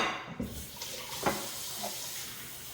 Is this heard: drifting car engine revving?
no